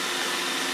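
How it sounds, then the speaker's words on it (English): An iRobot robot vacuum cleaner runs across a home floor with a faint, steady whirring buzz that holds unbroken throughout. "Hear a weird buzzing noise. That is our new gadget,"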